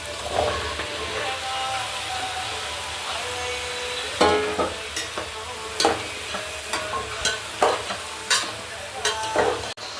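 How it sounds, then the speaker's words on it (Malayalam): Vegetable pieces, including cucumber and pumpkin, sauté in hot oil for sambar, with a steady hiss of frying and a run of sharp spatula scrapes and taps in the second half, nearby and with no voice. "നമുക്കിനിയിപ്പോൾ ഈ കഷ്ണം തട്ടിയിട്ട് ഒന്ന് വഴറ്റി കൊടുക്കാം"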